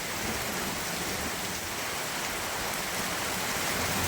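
Heavy rain pours steadily and loudly on Hanuman Jayanti, a dense, unbroken hiss of drops on surfaces with no talk.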